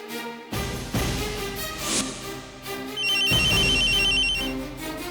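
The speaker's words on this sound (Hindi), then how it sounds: "शेखर, तुम्हारा फोन बज रहा है।" A mobile phone rings indoors, its tone starting after a brief quiet moment and growing louder toward the end, with the ringtone's bright repeating melody standing alone and no voices over it.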